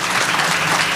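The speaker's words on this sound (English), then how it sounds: "let's clap for that" An audience at a housing charity gala applauds in a brief, dense burst of close clapping.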